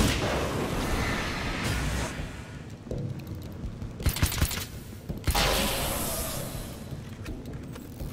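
Blasts and crackling bursts from explosions in a video game, loud rushing noise broken by sharp, sudden cracks and dropouts, with no speech.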